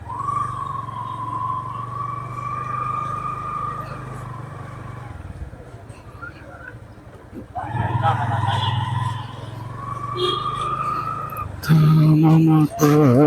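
Engines drone steadily in slow traffic, with vehicles passing close and a horn-like tone rising near the end; a voice speaks over it.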